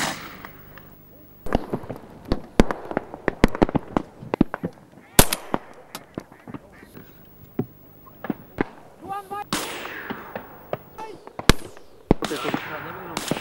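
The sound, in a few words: shotgun shots at coots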